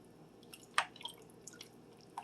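Ham pan drippings pour into a crockpot in a few soft, wet drips and squishes, faint and close, with one slightly louder splash near the start.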